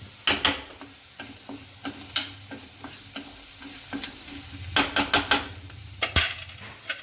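Prawns frying with asafoetida in a pan, with a soft sizzle under repeated sharp scrapes and knocks of a spoon stirring against the metal, in irregular bursts and close by.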